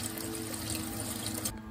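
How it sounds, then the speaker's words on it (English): Cold water runs steadily from a kitchen tap over a cleaned brook trout in a sink, a continuous close splashing rush that cuts off abruptly near the end. "you're gonna wanna clean your trout however you like to clean it, and then rinse it out with cold water"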